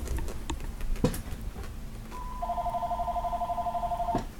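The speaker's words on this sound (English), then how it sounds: "And my phone rings." A telephone rings indoors, with a steady electronic two-tone ring starting partway through and sounding close and fairly loud over room noise and faint handling sounds.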